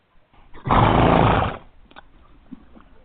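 A horse sound effect in a poetry book advertisement: one short, loud snorting blow from a horse, close by, followed by faint quiet.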